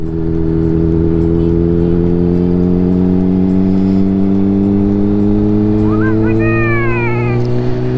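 A motorcycle rides along a forest road in Sweden, its engine giving a steady, loud, close droning hum throughout, with a few brief high chirping sounds near the end.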